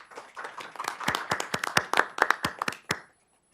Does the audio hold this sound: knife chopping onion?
no